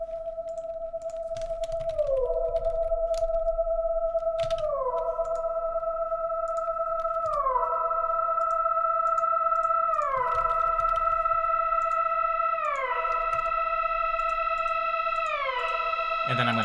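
A synthesizer pad holds steady tones while its filter cutoff and resonance are slowly swept upward, so the sound brightens and shifts in stepped glides over several seconds, with soft clicks underneath and no talking.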